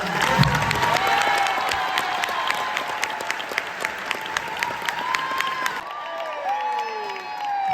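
Sustained applause from a sizable crowd at an honors event, steady clapping throughout with a few whoops early on, tapering slightly near the end.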